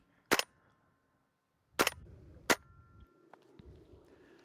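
A WE SCAR-H gas blowback airsoft rifle fires three sharp, metallic clanking cracks spaced over a few seconds, followed by fainter mechanical knocks in an otherwise quiet space.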